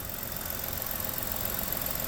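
A 2016 Ford Police Interceptor Utility idling up close, a steady, even engine hum and vibration with no change in pace.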